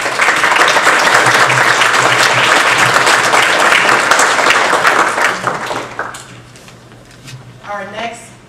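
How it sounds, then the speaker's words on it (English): At an academic speaker event, a loud, dense round of audience applause for a diversity officer carries on for about six seconds, then fades into scattered claps and room noise, with a voice rising briefly near the end. "Please give her a warm round of applause."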